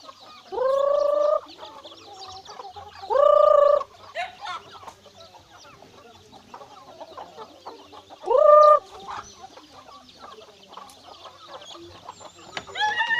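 Chickens on a rural chicken farm: three loud, drawn-out clucking calls rise clearly at intervals, with quieter scattered clucks and farmyard noise in between.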